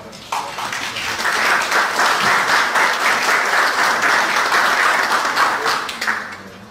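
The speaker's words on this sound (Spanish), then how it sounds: "Muchísimas gracias y un aplauso, por favor." Sustained applause from a large conference audience at the University of Costa Rica, steady and full for several seconds before tapering off.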